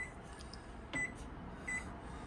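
Two short, faint electronic beeps, about three-quarters of a second apart, come from the clock button of a microwave in a 2025 Forest River Rockwood Ultra Lite travel trailer, heard in a quiet room.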